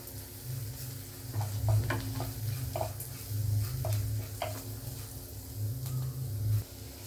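Half a teaspoon of turmeric powder warms in a pan for potato masala, with steady close sizzling and repeated scraping stirs of a spoon against the pan, no talking.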